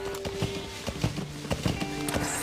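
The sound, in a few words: horse hooves in Metal Gear Solid V: The Phantom Pain trailer, video game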